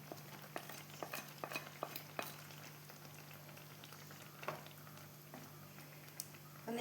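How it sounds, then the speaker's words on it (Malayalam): Paneer is stirred into a masala in a pan, giving quiet scraping and soft sizzling with light irregular taps, faint and without talk. "ഇനി ഞാനിതാ നമ്മളെ പനീർ ഇതിലേക്ക് ഇട്ട് കൊടുക്കുന്നുണ്ട്."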